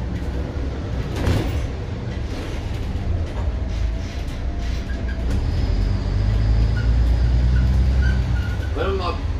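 A MAN A21 city bus accelerates with a rising engine rumble that grows louder through the clip, mixed with interior rattles, clunks and a whining tone. A person talks over the noise.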